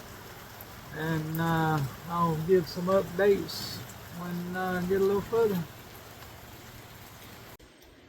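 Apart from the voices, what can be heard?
rain falling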